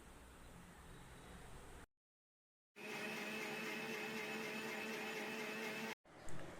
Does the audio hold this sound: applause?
no